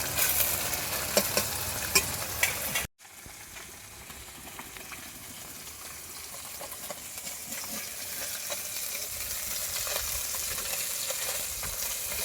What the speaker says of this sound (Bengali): মাছটা একটু ভালো করে ভেজে নেব।